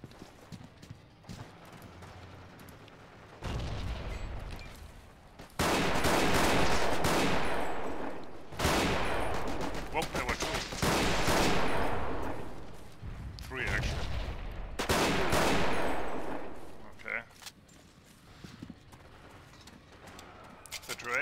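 Gunfire in the multiplayer war game Forgotten Hope 2 on the Pegasus Bridge map comes in several loud bursts and rolling volleys with quieter gaps, mixed with rumbling and clattering battlefield noise.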